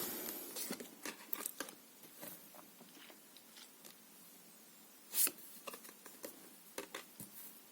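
Tarot cards shuffled by hand at close range, a soft run of papery riffles, slaps and taps, with a brief louder burst near the middle, all in a quiet room with no talking.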